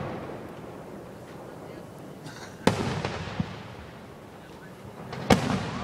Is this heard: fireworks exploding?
yes